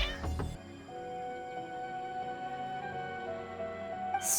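Worked-up cats meow in a video game, a short burst up front followed by a sustained tonal wail under soft game music, with a brief sharp sound at the very end.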